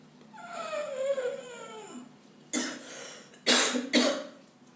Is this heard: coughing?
yes